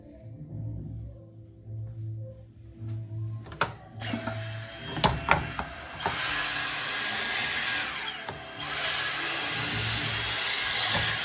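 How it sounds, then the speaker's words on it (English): A blow dryer switches on after a few clicks and handling noises, then runs with a steady, loud whooshing roar. "It's just a blow dryer."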